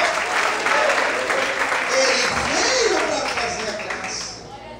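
A church congregation applauds during an evening service, with broad steady clapping filling the whole stretch, joined briefly by a voice partway through.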